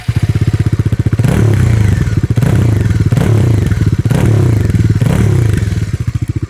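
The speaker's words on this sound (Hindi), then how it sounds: "एग्जॉस्ट का नोट तो इसका काफ़ी ज़्यादा बेसी है।" A Bajaj Dominar 400 motorcycle with its stock exhaust gives a loud, deep, bassy thudding note close by, revving up and settling back several times in rhythmic pulses.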